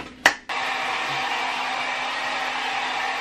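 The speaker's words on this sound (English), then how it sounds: "So now we're gonna take my hair dryer and just blow it out a little bit upwards." A handheld hair dryer blows a steady, loud, breathy whoosh as it lifts damp hair upwards for volume, preceded by a brief click as it switches on.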